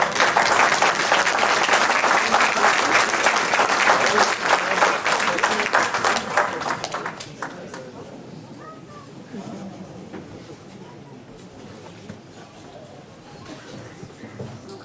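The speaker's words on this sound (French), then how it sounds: "On les applaudit." An audience packed into a hall for the Pussay 2019 New Year's wishes ceremony claps loudly and densely for about seven seconds, then the applause fades into scattered claps and a low murmur of the crowd.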